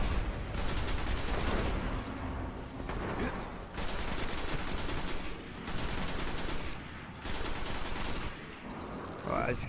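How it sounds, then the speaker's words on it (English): Gunfire in the video game Destiny: sustained bursts of rapid automatic shots, loud and close, broken by brief pauses between volleys. "stop shooting at me"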